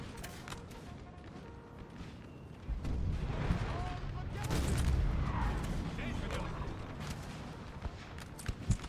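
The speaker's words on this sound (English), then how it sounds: "the artillery is getting shots off on this French firing canister" Distant booms of artillery firing canister across a large Napoleonic battlefield in Napoleon: Total War, rumbling under steady battle noise and a talking voice, with a few sharper reports near the end.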